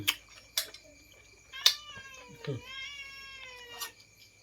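A cat meows several times, loud and close, with a few sharp knocks between calls and no talking.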